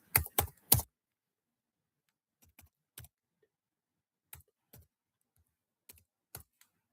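Computer keyboard typing as a school UDISE code is entered into a login page: a quick burst of three loud key presses, then sparse, softer single taps spread out over several seconds, close and alone without talk.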